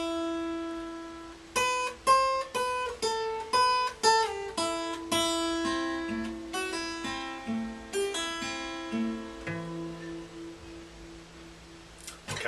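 An electric guitar plays a simplified beginner's version of a song's intro lead, with plucked single notes over a sustained low open string, ringing and decaying one after another at a moderate, close volume.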